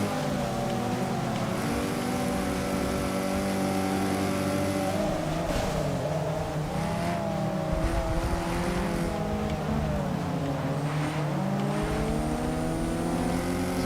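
A multiplayer race in Forza Motorsport 6 features an Alfa Romeo with a crowd of D-class race cars whose engines drone and rev loudly and continuously, pitch rising and falling through gear changes, with no talk.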